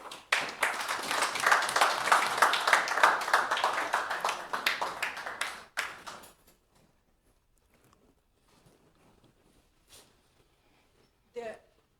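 A lecture audience claps for Professor Lewa after a research methodology talk, a dense burst of applause lasting about six seconds before fading out, followed by near silence and a couple of faint knocks.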